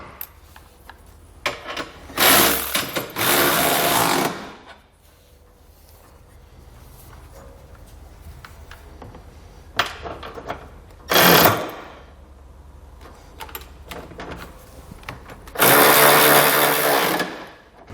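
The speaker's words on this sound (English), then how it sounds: "we can come back with a socket and snug down all of our hardware" A power tool driving a socket to snug down trailer hitch hardware on a 2020 Mazda CX-5 gives three or four loud whirring bursts of a few seconds each, separated by quieter gaps holding faint clicks and handling noise.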